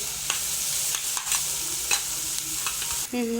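Peppers and onions frying in a pan while being stirred, a constant bright sizzle broken by several sharp scraping clicks of the utensil, close and loud, with no talking.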